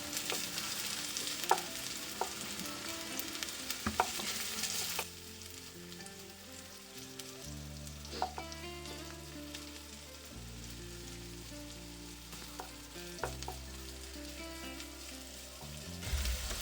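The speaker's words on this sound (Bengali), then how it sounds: "এর মধ্যে কেটে রাখা গাজরটা একটু ভেজে নেব, তার সাথে কিন্তু ক্যাপসিকামটাও ভেজে নেব।" Chopped carrot and capsicum fry in a pan with a steady, close sizzle, broken by occasional stirring clatter and a strong crackling burst in the first few seconds; no voices.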